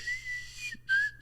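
A person whistles a short, clear tune close up: a sustained note that slides slightly, a brief pause, then another held note with a quick trailing chirp, alone without talk.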